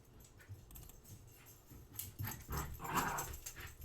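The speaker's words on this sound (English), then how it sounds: "My dog is seriously going nuts. She's playing with a little narwhal." Dog excitedly playing with a small plush narwhal toy, with close, quiet snuffling, panting and little whimpering growls that grow busier and louder toward the end.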